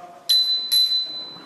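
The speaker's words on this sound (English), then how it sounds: "he will ring that bell when the speaker has 1 minute remaining and then two bells when the time is up" A hand bell is rung twice at a community transport forum to mark the end of a speaker's time: two bright, ringing strikes about half a second apart, each tone lingering over quiet room ambience.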